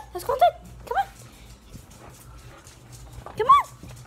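A dog whimpers and whines in three short high-pitched bursts, with quiet background noise between and a second dog nearby in a backyard where plants are being watered.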